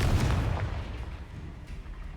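A Confringo blasting spell goes off in Hogwarts Legacy, a heavy, low booming explosion that rumbles loud and close from the start and then slowly trails away.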